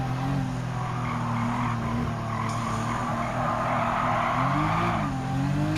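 A race car in Gran Turismo 7 brakes hard into a corner. The engine drones loud and steady throughout, its pitch dipping and rising as the car slows and steers through the turn, with a faint tire squeal over the top.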